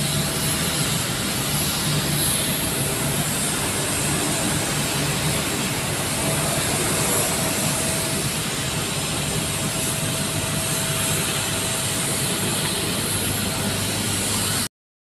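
Large jet airliners idle and roll on an international airport terminal ramp, a loud, continuous broadband roar with a steady engine whine throughout and no speech.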